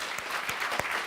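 A room full of people applauds after a live conversation with Shoshana Zuboff, a brief burst of dense, even clapping with a few sharper claps standing out.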